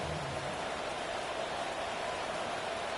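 Steady rain falls during an outdoor football game, a dense even hiss of broadband noise with no voices, continuous throughout.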